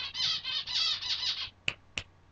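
Birds give a run of harsh, close squawking calls for over a second, followed by two sharp, brief clicks in near silence.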